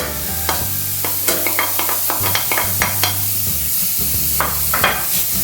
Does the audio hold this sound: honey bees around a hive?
no